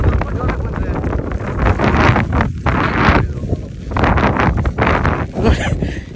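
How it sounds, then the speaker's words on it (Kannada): Strong, gusty wind on a mountain peak trek buffets the microphone in a steady roar, with surges and brief dips, while voices talk underneath. "ನೆಕ್ಸ್ಟ್ ಲೆವೆಲ್ ಗಾಳಿ"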